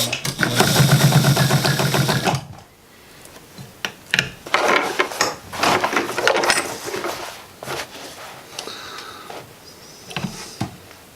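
A sewing machine stitches belt ends onto the bib top of a blacksmith's apron, running in one loud, steady burst for about two seconds before stopping, followed by scattered handling knocks and rustles.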